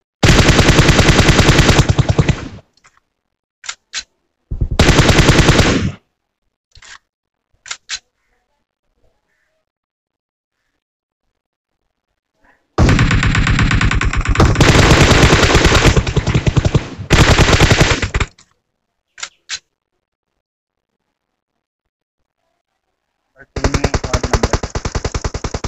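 Bursts of automatic gunfire from a shooting video game crackle loudly in long sustained volleys and short separate shots, broken by silent gaps.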